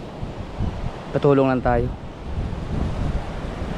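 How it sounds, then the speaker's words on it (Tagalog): Strong wind gusting at the seashore with waves breaking, a continuous rough rushing noise while someone speaks briefly in the middle. "malakas ang hangin, ganyan ang alon"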